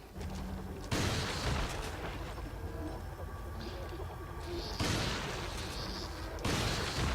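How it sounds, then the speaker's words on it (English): Booming shotgun blasts from the riot gun in the Resident Evil 4 sewers, three heavy reports spaced a few seconds apart, loud and close against a murky ambient background. "Let's use the riot gun then"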